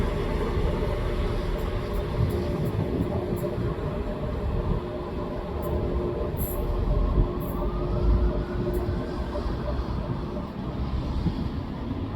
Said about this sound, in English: let's go up to the end and we'll get this train pulling out